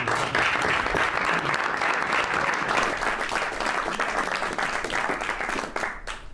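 Loud, sustained applause from an audience at a cabinet meeting, dense clapping that holds steady for several seconds before easing slightly at the end.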